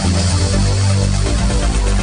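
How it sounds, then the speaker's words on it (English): Podcast news jingle for the North-South Divide segment, a loud, dense musical sting with steady bass notes and bright full-band texture, playing alone for about two seconds. "this is the North-South Divide news jingle"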